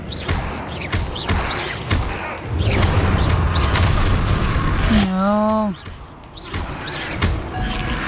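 A Confringo blasting curse goes off in a Harry Potter video game with heavy booming blasts and a swooping magical tone, while voices speak over the action.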